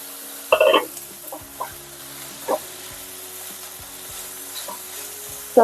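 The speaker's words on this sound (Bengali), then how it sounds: "এবার এর মধ্যে চলে যাচ্ছে সর্ষে বাটা" Mustard paste sizzles in a hot pan for a drumstick curry, with a few sharp scrapes and clinks of stirring over a low background hum.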